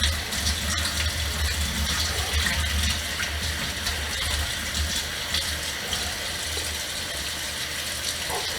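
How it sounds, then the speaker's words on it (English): Hot water gushes steadily and loudly from a kitchen tap into the sink, a continuous rushing flow heard alone. "So what I'll do is I'll start running the tap."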